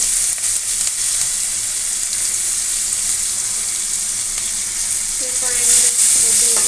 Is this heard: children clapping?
no